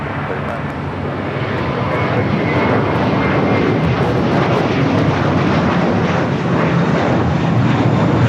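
An eleven-year-old American Airlines Airbus A321 jet, flight 32 to JFK, roars loudly at LAX, its engine noise swelling slightly and holding strong throughout.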